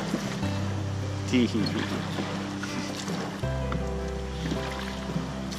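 Someone rows a small dinghy back toward a sailboat, with oars splashing and dipping in the water beside a low steady drone, while a person laughs and talks over it.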